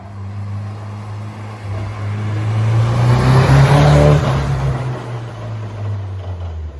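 A Nissan S14 car with a suspected exhaust fault revs up and then settles. Its low, rough engine note swells to a peak midway and fades slightly, sounding close and heavy.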